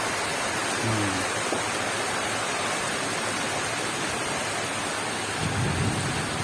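Rain falls steadily outside a village house in the monsoon, a dense constant wash with faint low rumbles of distant thunder beneath it.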